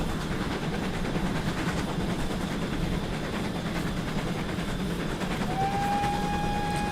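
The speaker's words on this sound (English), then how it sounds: "Just blow the whistle because it's asking for a whistle" A GWR 8000 steam locomotive whistle in Train Simulator sounds a steady, clear tone late in the clip, rising over a continuous loud rumble of the train running along the track.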